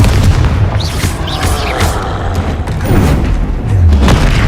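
A Confringo explosion spell bursts in the video game Hogwarts Legacy during combat in Hogsmeade, a loud, deep booming blast with rumbling thuds that fill the whole stretch.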